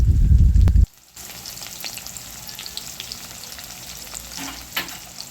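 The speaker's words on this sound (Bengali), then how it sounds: "একটা মিডিয়াম সাইজের পেঁয়াজ ছোট ছোট করে কুচি করে তেলের মধ্যে দিয়ে দেয়া হলো" Chopped onion and a bay leaf hit hot oil with a brief loud burst, then settle into a quieter, crackling fry with light stirring, close by.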